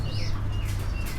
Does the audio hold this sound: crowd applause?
no